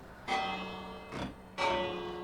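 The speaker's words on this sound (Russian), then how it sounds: "Когда они друг с другом соединятся, то колокол издаст звук." A bell from the Minecraft Create mod rings three times at an uneven pace. Each strike is clear and resonant with a short, ringing decay, and nothing else sounds in between.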